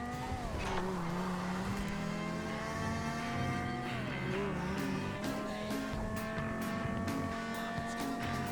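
A car engine drones and revs steadily through a racing video game, with tires squealing in long sliding tones, continuous and prominent with no talk.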